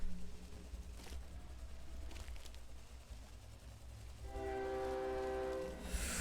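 Train rumble and a loud blaring train horn from the mobile game Subway Surfers; the horn sounds near the end as a sustained tonal blast, following a short stretch of running rail noise.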